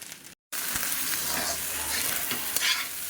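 Chicken rubbed with garam masala fries in a pan, a thick sizzle with stirring scrapes that starts after a brief break, near and steady throughout without speech.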